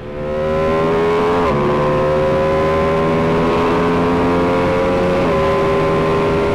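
Ducati Panigale V2 S motorcycle engine pulling hard under acceleration, with quick-shifter gear changes making brief dips in the steady loud drone, close and continuous with no talking.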